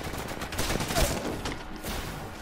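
Burst-fire gunshots in the online shooter Apex Legends, several rapid reports packed into busy, dense combat noise during a firefight, with a voice faintly mixed underneath.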